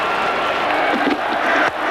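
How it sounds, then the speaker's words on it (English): Crowd at a cricket stadium during a New Zealand vs Pakistan semi-final in Auckland, a broad roar of cheering that swells briefly and then drops off, with sharp bursts rising out of the din. "Listen to the crowd."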